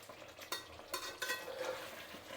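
Mutton browning in a pan for Champaran-style mutton, quiet close stirring scrapes and light clinks over a faint frying sizzle, no speech.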